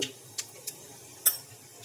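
Mustard seeds and cumin in hot oil for a tempering before spiny gourd curry, giving a few sparse, sharp crackling pops at irregular intervals over a quiet, faint sizzle.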